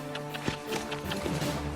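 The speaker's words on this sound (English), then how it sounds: "Horse doesn't even want to walk through this crap." Soft, uneven hoof thuds and rustling as a horse plods through dense brush, with faint scattered sounds in the background.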